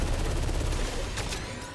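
Rapid gunfire in the video game Saros, a dense, loud run of quick shots packed into under two seconds, tailing off slightly at the end.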